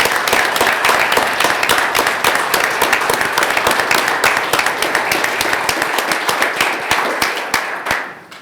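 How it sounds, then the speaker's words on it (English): Loud, sustained applause from a large crowd at a town board meeting in Farmville, NC, dense steady clapping that holds for several seconds and fades at the end. "A big round of applause for Mayor Bobby Evans."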